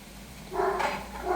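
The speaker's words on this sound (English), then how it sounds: "my dog's going crazy" An excited dog barks in a kitchen during cooking, a short burst of barking rising from moderate background noise, fairly close and loud.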